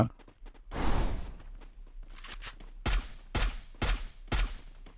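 Rapid bursts of gunfire in the Free Fire mobile battle game, several sharp volleys in a row, loud and close, with a burst early on and then four distinct repeated shots toward the end.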